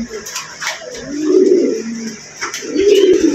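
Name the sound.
pigeons cooing, pair of pigeons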